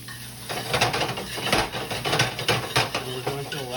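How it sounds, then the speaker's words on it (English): Mushrooms, shallot and garlic cook in butter in a pan, giving a close, soft sizzle broken by repeated scraping and clinking of a utensil stirring against the pan. "And we're going to allow that to saute."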